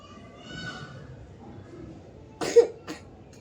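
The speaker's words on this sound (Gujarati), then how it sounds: "ઉધરસ થઈ ગઈ છે અમારી છોકરીને" A young girl gives a couple of sharp coughs near the end, close by, following a stretch of quiet background murmur.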